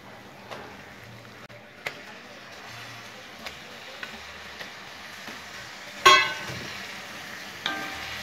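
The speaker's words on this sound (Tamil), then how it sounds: "இப்போ இதில் நம்ம கழுவி சுத்தம் பண்ண ஒரு 1/2 கிலோ சிக்கனை உள்ளே சேர்த்துடலாம்." Half a kilo of bone-in chicken fries in a pan with a soft continuous sizzle, punctuated by sharp clicks and scrapes as a spoon stirs it, including one louder clatter midway.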